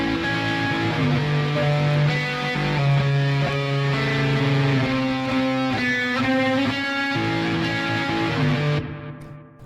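Dense, loud guitar riff run through a changed effects package, sustained chords over a full mix that holds steady and then cuts off abruptly near the end, with no talking.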